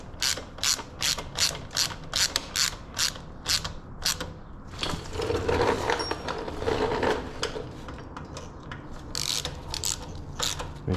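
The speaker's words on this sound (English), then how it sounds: "Oh, it is an Allen wrench. Number 4 Allen wrench." Rapid ratchet-like clicking from a number 4 Allen wrench tightening bolts on a Zooz 1100 electric bike, in short repeated bursts, then a louder rustling, mechanical stretch midway before more clicks return; no talking.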